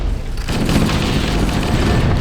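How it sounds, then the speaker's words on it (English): Grenades going off in Halo: The Master Chief Collection on Xbox One, a loud continuous rumble of overlapping booms and crackling blasts that swells at about half a second and holds to the end. "I'm just throwing grenades at this point"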